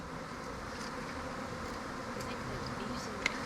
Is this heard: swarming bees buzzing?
yes